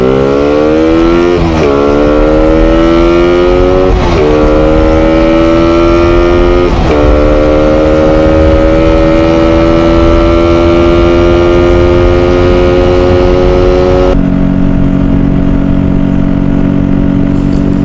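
Stock carbureted Raider motorcycle fitted with an Uma flatslide carb, ridden at full throttle: a loud, steady engine whine climbing in pitch through several gear shifts, then a lower tone near the end.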